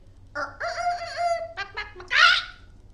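A voice imitates a hen, a Ru hen in a folk story, with a short burst of tonal, crowing calls followed by a harsher squawk, loud and close with no other talk.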